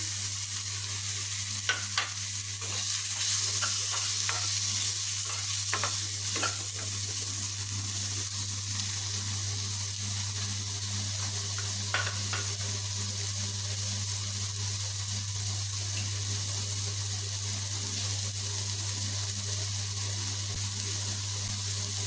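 Mashed hog plum, crushed on a grinding stone, stirred in a pan over a low gas flame for a sweet-sour pickle: steady close sizzle with scraping stir strokes, a few sharper clicks early on, no talking.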